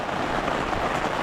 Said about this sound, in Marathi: पाऊस मोठा आला.